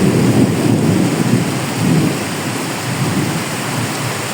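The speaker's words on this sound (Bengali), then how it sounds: "এখন তার থেকে আরো অনেক বেশি মুষলধারে বৃষ্টি হচ্ছে। আর আকাশে গর্জন করছে সে কঠিন আকারে।" Heavy monsoon downpour drums loudly and without pause beside a pond next to a room, with deep rumbling thunder rolling beneath the steady roar of rain.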